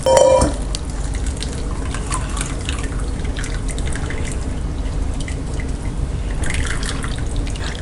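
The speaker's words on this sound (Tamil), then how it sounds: "இப்போ நம்ம வடித்து எடுத்துக்கலாம்." Water pours and drips steadily, a continuous splashing trickle as whey from curdled milk drains through cloth into a vessel, with a brief louder splash at the start.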